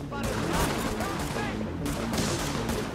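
Repeated volleys of gunfire in The Division beta, co-op on PS4, come in sharp clustered bursts across a few seconds, loud and close, with a voice talking amid the shooting.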